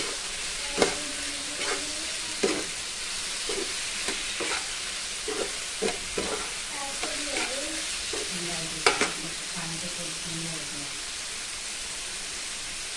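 Salted vegetables stir-fried in a pan give a steady broadband sizzle, broken by scattered sharp scrapes and clacks of the spatula. A faint voice is heard in places.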